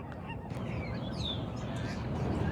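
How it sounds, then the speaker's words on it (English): Seagulls cry overhead in scattered squawks over a steady outdoor rumble at Alcatraz in San Francisco, fairly faint and distant. "All these loud seagulls."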